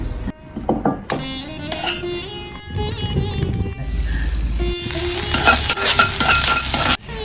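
Bitter gourd sautéed in a pan, with scraping stirs and clinks of a spoon against the pan over a soft sizzle, growing busier toward the end, while someone talks over it.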